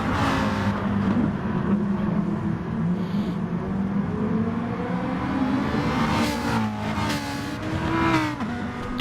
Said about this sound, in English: Do like the noise of them Lamborghinis, mate. They do sound good.